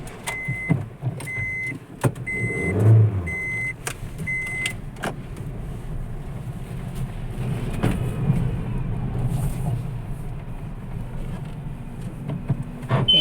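A car sits idling nearby at night, a low, steady rumble with a few brief mechanical whirs and faint tonal beeps, heard close and without talk.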